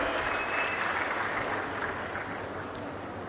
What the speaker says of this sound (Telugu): అందరూ కూడా గట్టిగా చప్పట్లు కొట్టి అభినందనలు వారికి చెప్పాలి